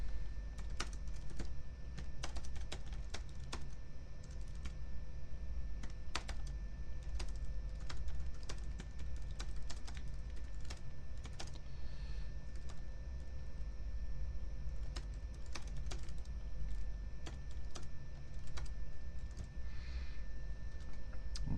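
A paragraph is typed on a computer keyboard in a steady, continuous patter of key clicks lasting about twenty seconds, with occasional louder taps, quiet and close with no talking.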